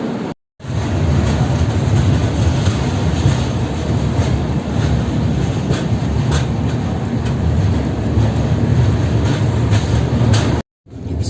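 A superfast express train runs steadily along the rails, a loud, continuous roar of wheels and carriage rumble heard from on board, cutting off briefly at the start and near the end.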